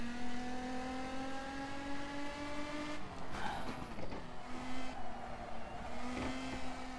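Megane Trophy race car in the sim racing game rFactor 2, its engine droning steadily with a sustained tonal whine, shifting and revving through gear changes around the middle, loud and continuous with no talk.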